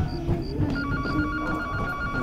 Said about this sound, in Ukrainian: Телефон, кажу.